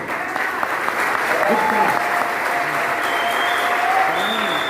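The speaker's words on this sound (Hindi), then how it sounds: "जोरदार तालियां।" Audience applause at a motivational success-story talk, a sustained wash of clapping from a crowd, with faint tonal sounds and a voice drifting through underneath.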